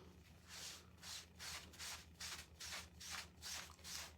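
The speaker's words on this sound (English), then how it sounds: "I'm just going to wipe off all of that ink" Rhythmic back-and-forth rubbing, about eight brisk strokes of a board eraser wiping ink off a wet surface, close and steady with no voices.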